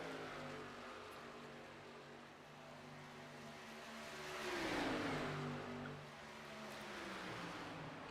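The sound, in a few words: stock cars racing on an oval track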